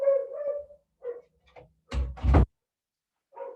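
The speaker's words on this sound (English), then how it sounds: "my dogs are going to bark" Dogs bark in a home, a few sharp barks close by, with muffled voice-like sounds and a door-like thud between them.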